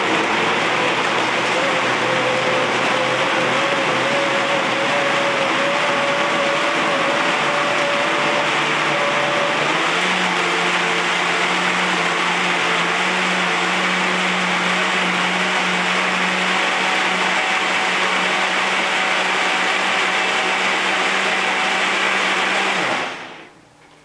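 A blender runs steadily at full power, loud and close, while it blends a green smoothie made with bok choy; the motor pitch shifts partway through, then it cuts off abruptly near the end.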